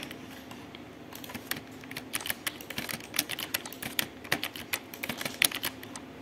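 Keys on a computer keyboard are pressed for formatting shortcuts, producing a quick, irregular series of nearby clicks and taps, some clustered in short bursts.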